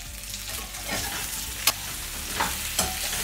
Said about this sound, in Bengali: হলুদ দিয়ে আলুগুলোকে ভাজা ভাজা করে নেব।